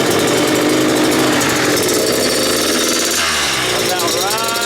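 A street-legal super mini bike's small engine starts and runs loudly, holding a dense, rough, buzzing roar throughout with a slight shift in pitch near the end.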